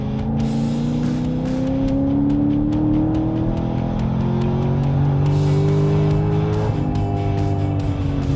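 A Chevrolet Corvette Z06 accelerates hard in a drag race, engine roaring loud and close as rising rev sweeps climb through successive gear shifts, with steady wind and road noise underneath.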